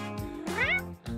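A cat meows in a few short, tonal cries, one rising and falling more strongly in the middle, close and clear with no talk over it.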